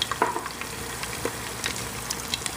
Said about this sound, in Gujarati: તો 6 આઉન્સ આપણે એની અંદર ટમેટો પેસ્ટ નાખશું.